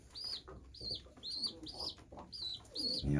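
A bird regurgitating food to feed two chicks, with repeated soft high peeping calls and faint rustling close by, ending in a short louder burst.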